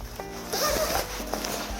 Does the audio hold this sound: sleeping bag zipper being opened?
yes